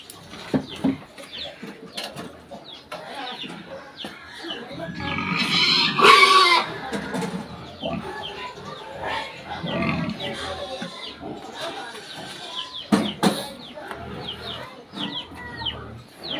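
Pigs grunting and squealing on a farm, mixed with chickens clucking nearby, a busy livestock din that swells midway; people talk now and then over the animals.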